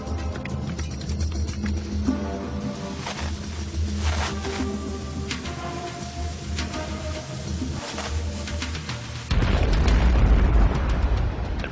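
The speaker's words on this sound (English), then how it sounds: "The resulting explosion signaled a furious 6-hour Ottoman assault." A documentary sound effect for the Ottoman mine explosion under a besieged fortress's foundations: a soundtrack plays first, then a deep, loud, rumbling blast swells in near the end and keeps roaring.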